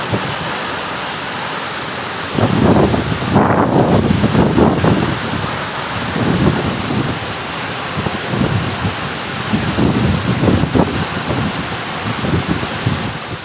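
Athirapally waterfall in Kerala roars as a broad, continuous wash of rushing water, loud and steady, with gusts of wind buffeting the microphone in several surges.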